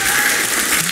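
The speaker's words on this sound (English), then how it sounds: "let's have a big round of applause for Dave" An audience claps for a bass player at a small live music session, a dense, loud wash of applause across a short burst.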